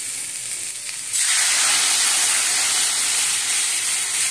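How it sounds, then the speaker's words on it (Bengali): Half a cup of milk poured onto vegetables frying for Bengali shukto, starting a loud, bright, steady sizzle and hiss that swells suddenly partway through and keeps going with no talk. "এতে আমি হাফ কাপ দুধ অ্যাড করব"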